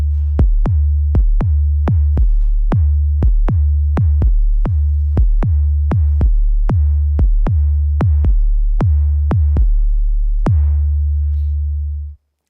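Deep, booming kick drum hits repeat in a steady rhythm, each with a long low sustained tail and processed tone, growing sparser near the end.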